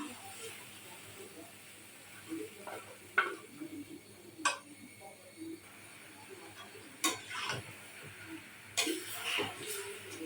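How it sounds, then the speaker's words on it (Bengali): A spoon stirs fried spice paste through chicken pieces in a pan, giving faint, scattered scrapes and soft clinks over a quiet, hissing background. "এখন আমি চিকেনের সাথে মিশিয়ে নিব এই যে চিকেনের সাথে"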